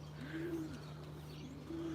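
Young racing pigeons coo softly in a loft: two rounded, wavering coos with faint chirps between them and a steady low hum underneath, no voices.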